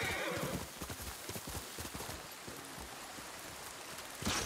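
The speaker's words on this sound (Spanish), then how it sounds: "Eres un buen caballo, ¿no?" A horse in the samurai video game Ghost of Tsushima trots with steady clip-clop hoofbeats over a rain-like outdoor ambience, and a whinny rises near the end.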